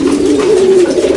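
A pigeon coos close by, a single drawn-out low hum that swells and fades, loud and alone.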